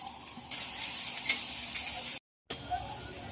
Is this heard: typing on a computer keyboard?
no